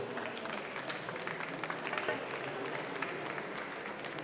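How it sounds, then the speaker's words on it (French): An audience applauds student speakers at an agricultural institute presentation, with steady, dense clapping from a crowd, even and continuous, heard from some distance. "On peut les applaudir."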